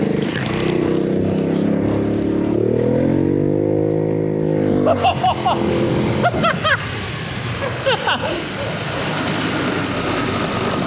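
A cheap custom-built scooter's small engine drones and shifts pitch while being ridden, steady and fairly close, with a few brief revving bursts toward the end.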